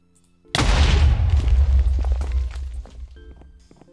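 A fire charge blowing up in Minecraft Bedwars, one sudden loud booming blast with a deep rumbling tail that fades over about two seconds, followed by faint game clicks.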